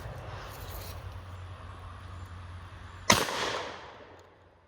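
Stoeger M3020 shotgun fired outdoors at a target: a single sharp, loud blast that decays quickly, following a low background hum.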